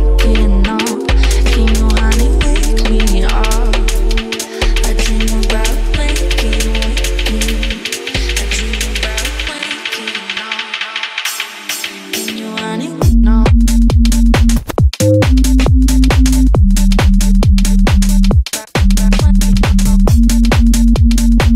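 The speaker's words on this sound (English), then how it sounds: "So, you want to make a UKG tune that sounds like this." A UK garage dance track plays loud and continuous, with punchy kick and bass pulses, bright chopped synth stabs and busy hi-hats; midway the low end drops out for a filtered break before the full groove returns.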